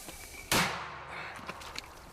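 A single sharp, loud artillery blast cuts through steady background noise, followed by its echo and a few faint pops trailing off.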